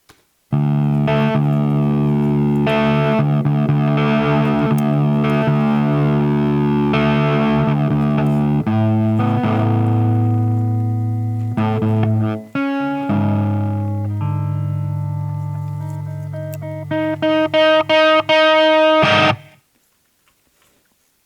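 A distorted electric guitar plays alone, sustained chords and riffs with effects, loud and close, then stops abruptly near the end.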